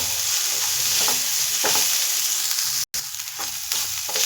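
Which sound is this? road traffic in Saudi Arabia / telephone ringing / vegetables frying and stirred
vegetables frying and stirred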